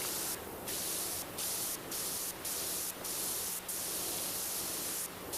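A virtual pressure washer in PowerWash Simulator 2 sprays through its green nozzle with a steady, loud hiss, broken by about seven short rhythmic pauses as the stream stops and restarts.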